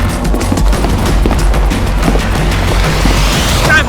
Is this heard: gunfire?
yes